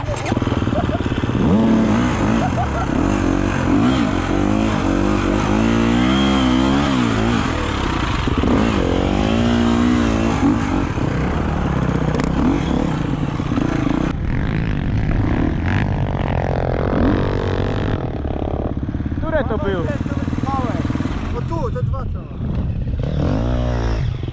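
A vehicle engine at a gravel pit is started and revved hard, a loud close rough roar with rising and falling throttle, then dropping to a lower idle with clattering; people talk and laugh over it.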